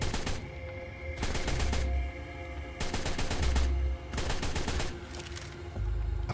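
Firearm in the survival game ARK fires in repeated rapid bursts, three or four loud clattering volleys separated by brief pauses with background ambience between.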